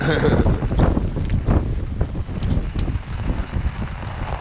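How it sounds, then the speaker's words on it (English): Strong wind gusts at a November campsite in Washington roar and buffet the microphone with deep rumbling bursts, rising and easing in waves throughout, with trees swaying. "Some of these wind gusts are quite huge"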